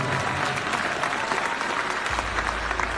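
Audience applause for a young man at a Babbu Maan fan meeting, a steady dense clatter of many hands clapping close by, continuous for the full three seconds with no talk over it.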